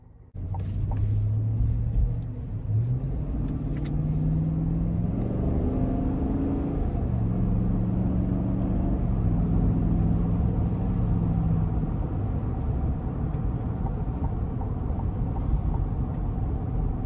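A 2021 Chevrolet Tahoe Z71 with the 5.3-liter engine drives on the road: a steady, loud cabin rumble of engine and road noise, with the engine note rising and settling as it accelerates.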